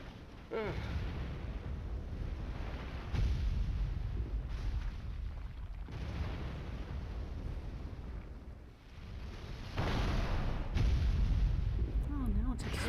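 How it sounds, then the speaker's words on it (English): Rumbling explosion sounds from the video game Professor Layton and the Diabolical Box, a sustained low roar with bursts of heavier booms, loud and continuous with no speech. "Oh, now it's exploding."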